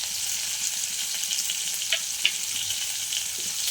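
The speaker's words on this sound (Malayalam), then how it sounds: "ഉള്ളി തക്കാളിയും കൂടെ ഒന്ന് വഴണ്ട് വരട്ടെ കേട്ടോ" Onions and tomatoes sauté in hot oil in a pan, giving a steady close sizzle and crackle with a couple of faint taps from stirring.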